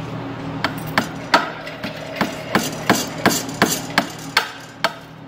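Hammer blows on a rivet during robot building, a dozen sharp metallic taps at a steady, slightly uneven rhythm, close and loud with no talk.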